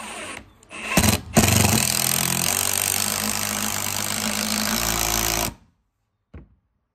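DeWalt impact driver sinking a screw with a bit under comparison, a loud continuous hammering buzz lasting about four seconds after a short start, then stopping abruptly, with a faint brief tap afterward.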